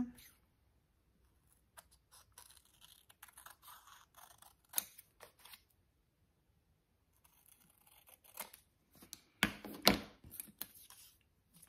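Paper being trimmed with scissors during a craft project, heard as sparse snips and crisp rustles, with a louder cluster of cutting and crinkling near the end, mostly quiet in between.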